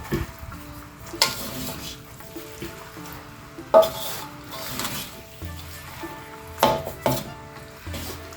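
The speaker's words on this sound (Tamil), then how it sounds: "அடுப்பில் சிம்மில் வச்சுட்டே கிண்டுங்க" Mee goreng noodles are stirred in a pan over a low flame, with soft sizzling beneath intermittent scrapes and clatters of a utensil against the pan, and no voices.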